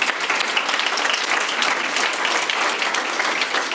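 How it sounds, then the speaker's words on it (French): A church congregation applauds steadily with dense, continuous clapping for nearly four seconds, loud and sustained with no break. "Tu peux acclamer le Seigneur."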